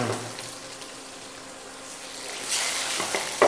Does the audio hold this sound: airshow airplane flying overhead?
no